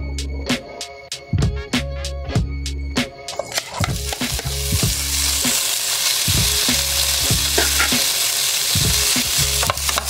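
Pork belly fried with onion in a pan for binagoongan, a steady loud sizzle with rhythmic metallic clanks of a utensil scraping and stirring against the pan.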